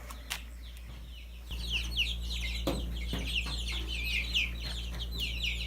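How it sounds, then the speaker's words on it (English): Five-week-old chickens cluck and chirp in a busy, steady chorus over a constant low hum, with a few sharp knocks scattered throughout. "Let's go take a look at the chickens."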